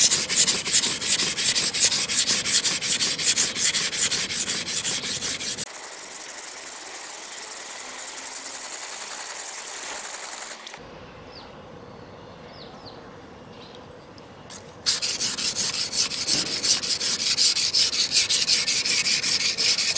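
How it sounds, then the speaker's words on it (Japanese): The steel face of a double-bevel kitchen knife is ground flat on a coarse whetstone, with a continuous rasping scrape. The sound changes to a quieter, smoother grind partway through before the harsh strokes return. "この鋼の面を角度上げずに面を削ってみます"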